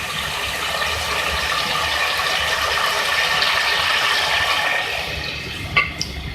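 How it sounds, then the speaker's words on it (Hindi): Two cups of water pour into a pan of cooking chicken korma, a steady rushing, bubbling wash that fills the whole stretch, ending with a couple of small knocks. "दो कप पानी मैंने इसमें ऐड किया है"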